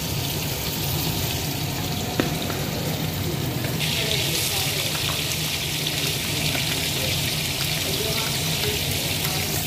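Whole cumin and bay leaves sizzle in hot oil in a kadai during village-style cooking, a steady close crackling hiss that holds for several seconds without pause.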